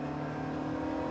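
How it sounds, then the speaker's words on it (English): A quick period turbocharged car accelerates with audible turbo lag, its engine giving a steady, moderately loud drone with sustained low tones and no rise in pitch over this short stretch. "There's a fair bit of period turbo lag,"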